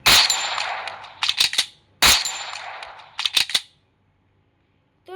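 SMG gunfire in the mobile shooter Free Fire Max, two loud rapid bursts of shots about two seconds apart, each ending in a short cluster of sharp cracks, followed by silence and a faint click at the end.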